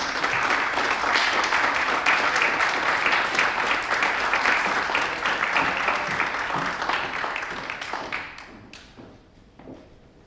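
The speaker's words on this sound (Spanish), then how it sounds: "aprovechamos de darle un aplauso y que venga para acá" An audience at a talk gives sustained applause, a full, even wash of clapping that gradually fades over the last few seconds into scattered individual claps.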